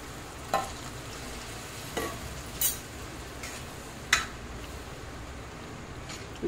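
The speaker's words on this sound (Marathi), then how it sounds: "हे बघा आपल्या ग्रेव्हीला चांगली उकळी आलेली आहे." Paneer masala gravy with hot water simmering in a pan, a soft continuous bubbling sizzle punctuated by a few sharp clinks of a spoon against the pan.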